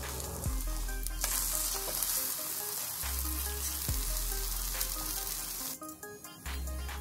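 An atta chilla fries in a pan on medium heat after being flipped, giving a loud, close, continuous sizzle with crackling. Low rumbling bursts come and go beneath it, and there is no talking.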